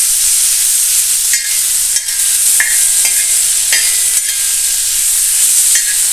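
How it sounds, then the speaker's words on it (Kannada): Vegetables roasting in oil in a pan, a loud continuous close sizzle with a few brief metallic scrapes and taps from stirring, no voices. "ಸ್ವಲ್ಪ ಎಣ್ಣೆ ಹಾಕಿ ಹುರ್ಕೊಂಡ್ರೆ ಹಿಂಗೆ ಹುರಿದ್ನೂ ರೊಟ್ಟಿಯಾಗಿ ತಿನ್ಬೋದ್ರಿ"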